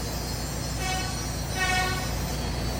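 An extra AC fan on an Isuzu Elf Giga truck runs at low speed, giving a steady whirring hum with a constant low drone underneath, close and unbroken.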